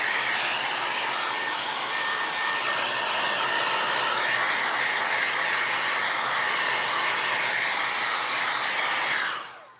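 A hair dryer blowing steadily on painted mold castings for Christmas tags, a constant loud whooshing whine that cuts off abruptly at the end.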